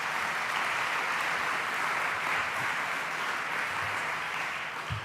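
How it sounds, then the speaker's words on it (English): Crowd applause at a New York gun violence prevention bill signing: sustained, even clapping from a large audience that sounds slightly distant and continues unbroken throughout. "Give them a round of applause."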